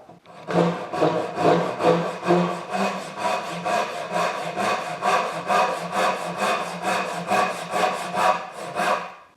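A Japanese hand saw cuts wooden stock with a fast, even series of rasping push-pull strokes, about three per second, close and clear with no one speaking.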